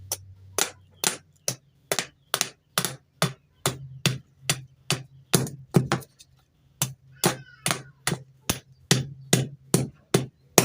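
A blade chops at the stem of a male papaya tree in evenly spaced sharp strikes, about two per second, close and crisp with quiet gaps between blows.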